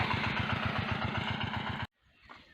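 A small tractor's engine runs hard and steady with a rapid pulsing chug as it drives over pumpkins, then cuts out abruptly, leaving a brief quiet rustle.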